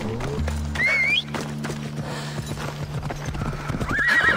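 A horse in Assassin's Creed Odyssey whinnies and its hooves clip-clop in a steady rhythmic trot, close and clear, with a second shorter neigh near the end.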